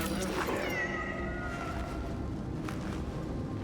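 A cat in Cronos: The New Dawn gives one drawn-out, wavering meow over a low rumbling game background, heard close and fairly clearly before it fades out.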